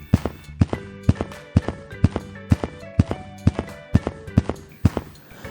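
A donkey's hooves clip-clop in a steady walking rhythm in a cartoon, the crisp, evenly spaced taps coming close and clear with no talk.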